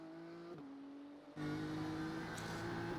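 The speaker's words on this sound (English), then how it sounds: "You should open the throttle really hard here." A race car engine in the iRacing video game at the Nürburgring, held at full throttle; a loud, steady high-pitched drone that dips briefly twice as gears shift, then climbs steadily louder and higher, with no one talking.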